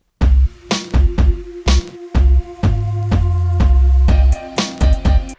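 Sampled beat bridge in which a thumping kick drum lands on every beat beneath a bass line that steps downward, with sustained tonal chords layered over the pulse, loud and up front, no voices.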